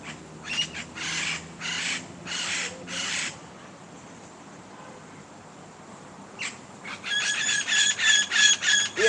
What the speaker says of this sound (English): hear the birds. Look, hear the birds.